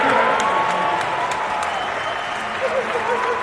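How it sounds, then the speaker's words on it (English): Crowd at a college basketball game, Hope International at Oregon Tech, cheering and applauding loudly in a gym after a putback basket, a sustained roar with a commentator talking over it. "The crowd going crazy."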